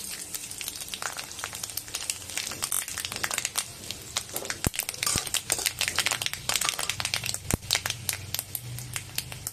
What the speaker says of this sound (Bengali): এলাচ, লবঙ্গ দিয়ে এটাকে একটু ভেজে নেব হালকা।